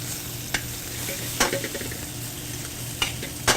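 Shrimp and scallops sizzle in a hot pan with a steady hiss, broken by a few sharp scraping clacks as they are turned over, close and moderately loud.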